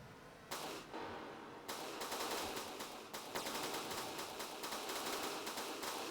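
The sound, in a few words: mounted MG32 machine gun firing in video game From The Depths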